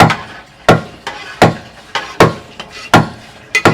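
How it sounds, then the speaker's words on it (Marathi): A knife chops fresh coriander on a board, loud close thuds in a steady rhythm of about two strikes per second, eight or so hard hits with a quick double at the end, no talking. "मला आता पटकन कोथिंबीर कापून घेईन"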